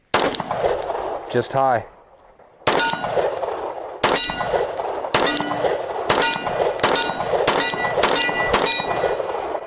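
Glock 17 Gen 5 pistol with a Radian Ramjet and Afterburner fired offhand at steel targets: a string of sharp, loud shots, each followed by a ringing clang, at a steady pace after a brief pause.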